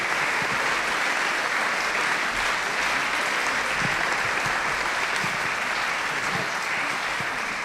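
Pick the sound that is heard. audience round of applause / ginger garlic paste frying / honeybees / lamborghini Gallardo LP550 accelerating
audience round of applause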